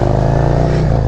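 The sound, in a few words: Harley Davidson Road Glide motorcycle engine riding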